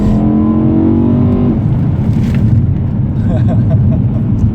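BMW M3 engine revving hard at close range, a loud rising harmonic roar for over a second that drops into a rumbling idle with brief crackles.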